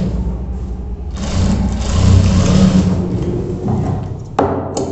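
An electric sewing machine stitches a pant seam in short bursts, with a loud steady motor whir and rapid needle chatter that start and stop abruptly at close range.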